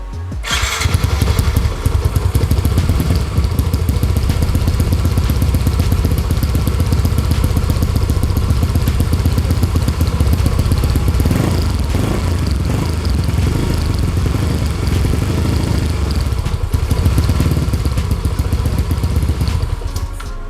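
A Yamaha Mio M motor scooter engine runs steadily and loudly for the whole stretch, a continuous buzzing drone with slight wavering in pitch, no voices.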